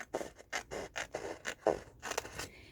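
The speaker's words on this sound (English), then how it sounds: "So we're going to cut up that score line," Scissors snip repeatedly along a score line on a paper box, about nine crisp cuts in an irregular rhythm, close and clear with no talking.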